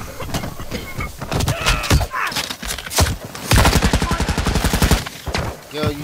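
Gunfire in a Call of Duty DMZ match: scattered loud shots, then a rapid automatic burst of evenly spaced bangs, with metallic clunks and movement between them.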